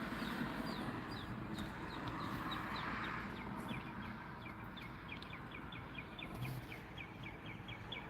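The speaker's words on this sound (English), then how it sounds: "You hear that bird?" A small bird calls outdoors in a quick series of high, thin chirps, fairly faint, over steady background noise with a short pause before the chirping resumes.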